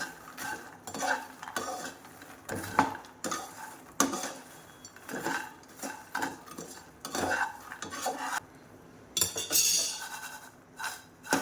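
Makhana chivda is tossed with powdered sugar in a pan, giving repeated clinking scrapes of a spoon against metal in an uneven rhythm, fairly quiet and close.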